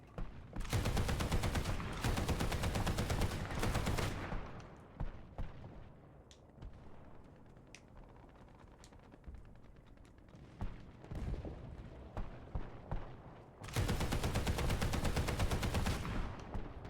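Heavy machine gun fire in the War Thunder tank game, two long sustained loud bursts of rapid automatic shots at the start and end, with scattered distant booms and quieter battle noise in between.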